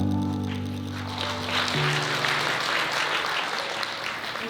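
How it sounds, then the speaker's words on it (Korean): Broad, steady applause from wedding guests that swells and holds, following a low sustained musical tone that fades out early on, as the bride and groom bow to each other. "여러분 아낌없는 축복의 박수 부탁드리겠습니다."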